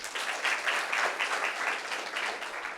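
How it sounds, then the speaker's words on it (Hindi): A crowd applauding steadily, a dense wash of clapping hands at moderate volume that holds evenly throughout. "एक बार इनके लिए जोरदार तालियां।"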